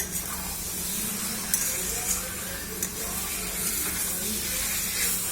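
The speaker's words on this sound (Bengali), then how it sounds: "এই দেখুন আলুটা দিয়ে দিচ্ছি।" Potatoes go into a pan of mutton for kosha, and a steady hiss and sizzle runs throughout at moderate level, with a few brief clicks and clatters on top and no talk.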